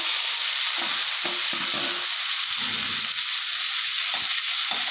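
Chopped shallots and garlic fry in a hot pan for a beanse mezhukupuratti stir-fry, with a steady close sizzle broken by short stirring scrapes and no talk.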